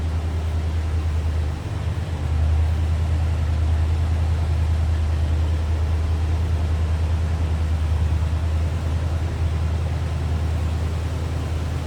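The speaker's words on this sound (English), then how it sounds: "Let you take a listen, nothing crazy over the top as far as exhaust." 1973 Ford F-100 Explorer regular cab pickup idles steadily, its engine and exhaust giving a continuous low, even rumble with a mild mellow tone, close by and without talk.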